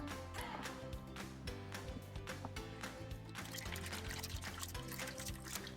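Water pours and splashes steadily, with intermittent clinks and rattles of clam meat being rinsed, fairly quiet.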